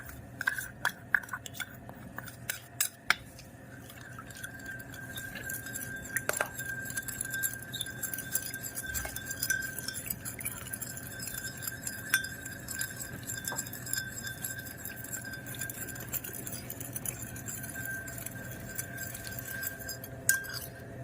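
Niacinamide powder is stirred into water in a glass, giving a few sharp clinks at the start followed by a long, faint, steady scraping and tinkling of the stirrer against the glass.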